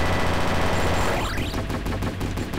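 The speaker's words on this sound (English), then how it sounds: "I love the machine gun." A machine gun fires in the arcade-style shooter Galaxy Champions TV, a fast stream of loud repeated shots layered over game music and a rising electronic sweep, with no talking.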